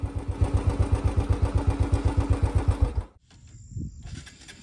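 A motorcycle engine labouring while the bike is stuck in mud on a rural hill road near Lakuri Bhanjyang, Lamatar, giving a steady run of rhythmic thumping pulses for about three seconds before it cuts off, leaving quiet background.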